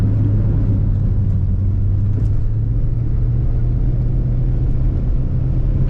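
A Subaru Forester rally car at a rally sprint stage holds a steady, heavy low engine drone throughout, even and unrevved, with no voices over it.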